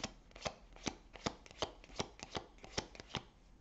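Tarot cards being shuffled and drawn, a steady series of about a dozen crisp, close slaps and riffles at a regular pace, fairly quiet and without talk.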